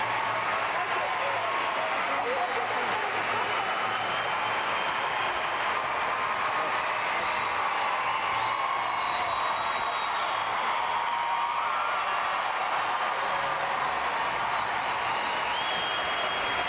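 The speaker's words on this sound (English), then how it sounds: "the crowd is showing how much they appreciate her performance" Arena crowd at the 2003 World Gymnastics Championships cheering and applauding a Brazilian gymnast's gold-medal routine, a sustained dense roar of clapping and voices with commentary faintly beneath.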